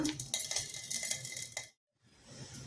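A metal spoon mashes roasted chillies with salt, scraping and clinking against a dish in quick, close strokes, then a short pause before softer scraping resumes.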